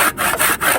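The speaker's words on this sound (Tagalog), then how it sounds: "kailangan lagari lang ng lagari" A hand saw cuts through a tree branch during branch trimming, with two or three quick, rasping back-and-forth strokes, close and loud.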